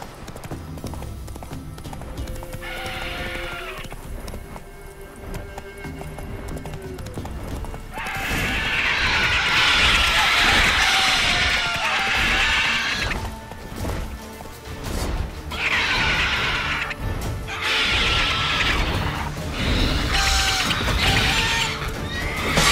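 Geralt's horse Roach in The Witcher 3 gallops with steady hoofbeats and whinnies loudly several times, the neighs rising in bursts over the running hooves and game noise.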